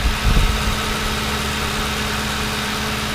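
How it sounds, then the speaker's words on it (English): A Ford Crown Victoria Police Interceptor engine idles with a steady low rumble and hum, after a brief thump at the start, with no talk over it. "Let's have a look to the beautiful engine."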